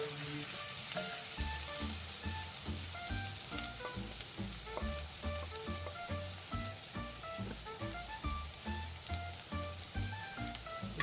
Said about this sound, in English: So, right away you're just going to add the shallots. Give them a stir.